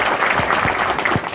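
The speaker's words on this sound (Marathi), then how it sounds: "शिवसेनेच्या वतीनं टाळ्या वाजून आपण सगळ्या जणांनी स्वागत करावं" A crowd claps steadily through a brief burst of applause, welcoming new members into the Shiv Sena at a party induction gathering.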